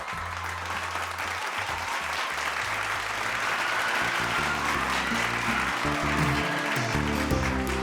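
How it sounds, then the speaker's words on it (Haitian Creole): A large audience at the Digicel Stars 2014 singing competition finale in Haiti claps steadily and loudly, a dense sustained applause with music playing underneath. "Battons gros bravo encore une fois"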